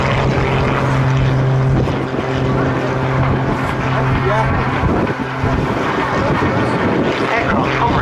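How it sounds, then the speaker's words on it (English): An aircraft hovers at the Cosford Air Show in 2017, a loud, continuous engine roar mixed with heavy wind buffeting on the microphone throughout. "Watch an aircraft hover."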